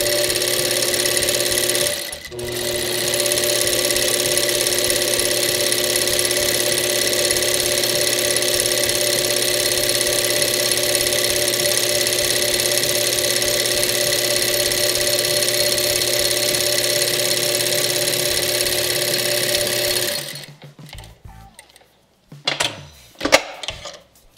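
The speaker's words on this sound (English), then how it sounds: "just do short length stitch so that way your machine will go a little bit slower" A sewing machine runs steadily on a short stitch length while sewing a five-panel camp hat, a continuous close whirring that lasts about twenty seconds with one brief dip, then stops, leaving a few soft handling sounds.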